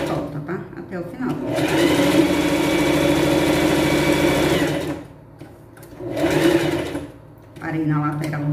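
A sewing machine stitches a pet backpack in long continuous runs with a steady mechanical whir, pausing briefly twice before starting again, loud and close.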